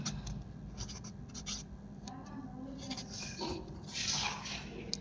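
A pen scratches across paper while a maths problem is worked out, giving soft, close, irregular strokes and scribbles over a low background hum, quiet throughout.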